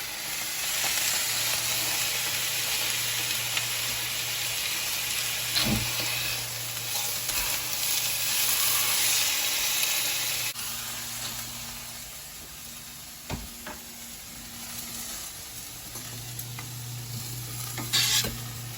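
Pot roast chunks sizzle and fry in a hot pan, a continuous crackling hiss with occasional stirring clinks and scrapes, close and steady throughout.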